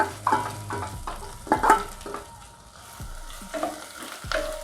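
Chopped onions and green chillies tossed into a hot pan for white kurma, sizzling in bursts with several scraping stirs, close and moderately loud with no talking.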